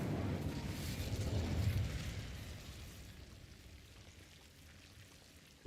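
An Incendio fire spell from Hogwarts Legacy, a burst of crackling, roaring flame that starts loud and close, then gradually fades away into a quiet hiss.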